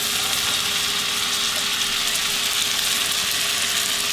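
Mushrooms and onion fry in a pan, giving a loud, steady, close sizzle that hisses without letup and with no talk over it.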